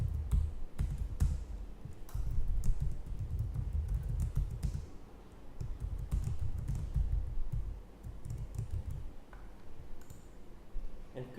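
Computer keyboard typing while entering script input, a quiet flurry of close key taps and clicks running continuously over a low background hum.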